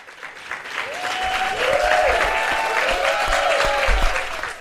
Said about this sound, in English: Biggest applause of the night, as deserved.